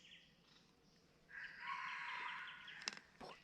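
A single rooster crow, fairly faint and a little distant, rising then holding, followed by a couple of small clicks.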